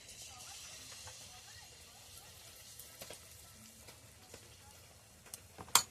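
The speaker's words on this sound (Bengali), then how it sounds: "তেলটা গরম হয়ে গেছে, এবার আমি ব্যাটারটা দিয়ে দেবো।" Malpua batter made with ripe banana fries in hot oil, a soft continuous sizzle and hiss near the pan with faint light stirring scrapes and a sharper clatter at the end.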